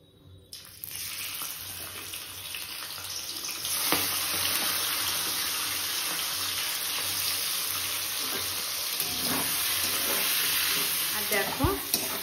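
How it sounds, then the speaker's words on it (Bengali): Prawns frying in a pan in a home kitchen, a steady broadband sizzle that holds from about a second in to the end, with faint clatter and no talk. "ফার্স্টে চিংড়ি মাছটাকে ভেজে নেব"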